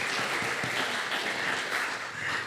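Audience applause at a talk, a dense sustained burst of many hands clapping together in a hall, loud and even for a couple of seconds before easing slightly.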